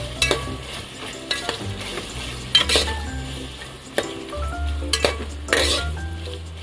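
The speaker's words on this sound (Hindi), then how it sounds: "अब प्याज को कीमे के अंदर मिक्स कर लेंगे इस तरीके से।" Sliced onions are stirred into minced meat keema frying in a pan, a steady close sizzle broken by repeated scraping and clinking of a spoon against the pan at irregular intervals, with no talking.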